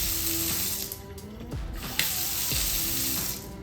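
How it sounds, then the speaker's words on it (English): Water runs from a Delta Monrovia kitchen faucet into the sink as a close, steady hiss and splash. Uneven spatter shifts through it as hands or items pass under the stream. "When you got dirty hands, you don't have to fumble with the faucet down here. All you need to do is touch it."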